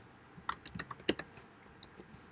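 Quick keyboard typing on a computer, a burst of distinct clicky keystrokes in an irregular rhythm, close and fairly quiet, with no voices.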